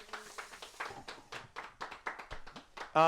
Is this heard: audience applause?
yes